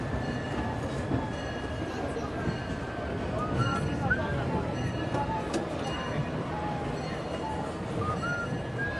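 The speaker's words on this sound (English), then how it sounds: "welcome aboard the Disneyland Railroad" Disneyland Railroad train rolling along its track at the park, a steady low rumble with squealing wheel tones and light clatter, crowd chatter and voices murmuring underneath.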